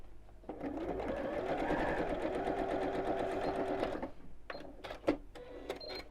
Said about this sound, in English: I'm just going to sew a couple of inches down the top of each one of the pleats.